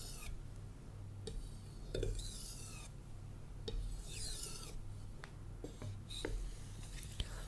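A Japanese sushi knife is drawn across a whetstone in steady, close raspy strokes, each pass lighter and softer than the last, with faint scraping and brief gaps between passes.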